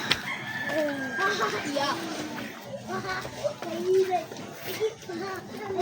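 A rooster crows amid a lively scene, with children chattering and playing close by throughout.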